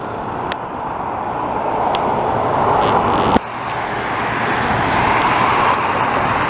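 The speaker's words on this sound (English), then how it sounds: "get an old car driving by in that long of a segment" An old car passing along Rue Sherbrooke in Montreal's Mercier-Hochelaga district, a steady rising roadway rumble with a brief sharp bump midway, blending into continuous city traffic noise.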